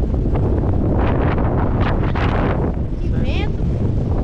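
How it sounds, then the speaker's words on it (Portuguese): Strong wind buffets the microphone while fishing from a boat on the water, a loud continuous rumbling roar with gusty surges and faint voices underneath. "Que vento!"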